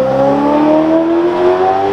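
Ferrari F8 Tributo accelerating close by: a loud, steady, high-pitched engine note that climbs smoothly in pitch over two seconds as the car pulls past.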